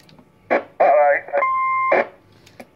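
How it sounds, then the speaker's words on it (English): Short bursts of talk, then a long steady electronic transmit beep from an Alinco DR-135 radio on UK FM CB that holds for about half a second before the voice resumes. "it's quite a long beep as well"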